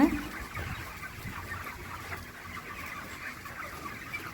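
Broiler chickens cluck in a steady, faint flock murmur inside a poultry farm shed fitted with fans and automatic feeders. The sound stays continuous and distant throughout, with no distinct single call standing out.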